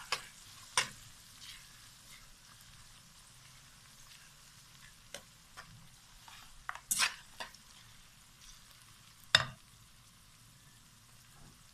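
Tomatoes stirred into a fish curry in a pan, with a soft low sizzle running underneath and sparse, sharp scrapes and clinks of the spoon against the pan spaced irregularly, close and quiet between strokes.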